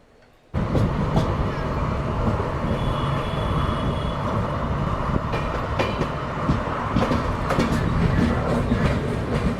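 A train runs steadily inside a sparsely filled general coach on the Bengaluru to Visakhapatnam special, with a continuous loud rumble and rattle and a few sharp track clicks throughout after a quiet first half second.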